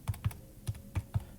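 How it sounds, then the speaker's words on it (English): Typing a calculation on a computer keyboard: five crisp, close keystrokes tapped at an uneven pace, with no talking. "Let me type that in."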